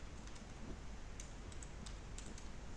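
Typing on a computer keyboard: scattered light clicks of keys over a steady hum, fairly faint and irregular, with no one talking.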